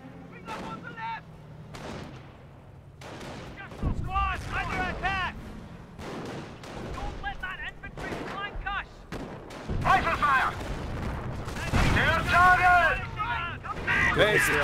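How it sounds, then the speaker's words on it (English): Booming artillery barrage explosions and gunfire from the strategy video game Company of Heroes 1 rumble in repeated heavy blasts while a commentator talks excitedly over the battle. "another barrage right there"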